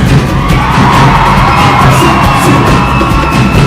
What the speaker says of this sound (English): And another round of applause for our PSU men.